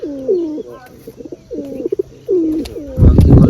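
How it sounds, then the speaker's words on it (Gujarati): Pigeons cooing close by in a loft setup, three rolling, throaty coos repeated at a steady pace, with faint chirps between them and a burst of rustling noise at the end. "કેટલું બોલે કબૂતર સાલું"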